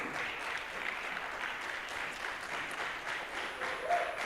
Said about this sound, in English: A big applause for the Youth Advisory Panel.